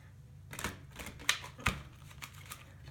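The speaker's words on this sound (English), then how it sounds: "I'm shuffling off to the side." Close, quiet shuffling of a Romance Angels oracle card deck: a series of soft papery riffles and slaps, with two sharper snaps near the middle, in an otherwise quiet room.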